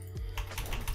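Quick clicks on a computer keyboard or mouse while playing the Shakes & Fidget browser game, several light taps in close succession over about a second, close and fairly quiet.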